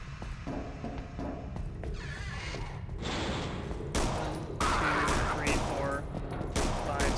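Repeated bursts of SMG fire in the Half-Life: Caged game mod, sharp rapid shots arriving in clusters over a low background rumble, loud and close.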